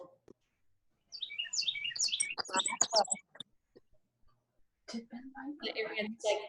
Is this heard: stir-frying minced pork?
no